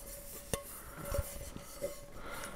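Bowls and pans from a Trangia 27-3 HA camping cookset clink together in a few sharp, separate metallic taps, fairly quiet and close, against a soft background.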